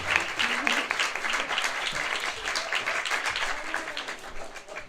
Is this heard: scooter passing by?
no